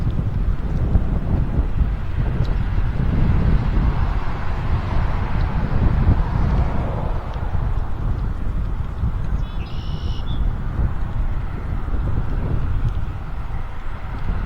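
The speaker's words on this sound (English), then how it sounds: "We've got about a 10-mile-an-hour headwind." Steady wind buffeting a microphone from a roughly 10 mph headwind on an outdoor bike trail, a continuous low rumbling roar that swells and eases throughout with no talk.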